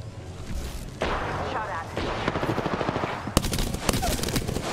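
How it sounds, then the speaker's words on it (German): Rapid automatic gunfire in Apex Legends, including a Gatling-style weapon, rattling in dense bursts with sharper close shots, mixed with voices talking throughout. "Unser Gatling P wird beschossen dort."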